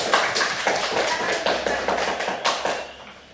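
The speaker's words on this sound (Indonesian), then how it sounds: "Beri tepuk tangan untuk kelompok 1." Students in a classroom clap for a group that has just presented, a brief ragged round of many hands with sharp taps in an uneven rhythm, close and fairly loud, fading toward the end.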